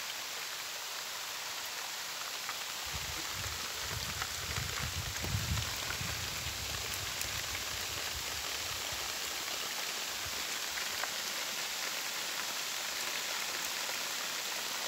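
Steady rain falling on surfaces outdoors in northeastern Brazil, a continuous soft hiss of drops with a faint low rumble partway through, even and unbroken throughout.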